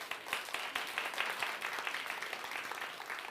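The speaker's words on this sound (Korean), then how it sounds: "박수를 받으려고 한 건 아닌데요." A small audience at an agricultural lecture on returning to farm life gives brief, fairly faint clapping in quick uneven bursts.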